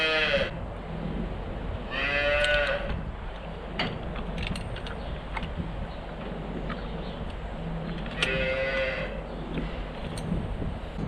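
A dairy cow, just given a calcium pill as a fresh cow, moos twice in a barn, loud and close, with a pause between calls over steady farm background noise.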